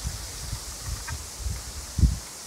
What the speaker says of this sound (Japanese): 木々や竹を揺らす風の音って、